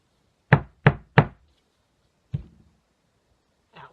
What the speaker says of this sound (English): Gotta do a little pounding here.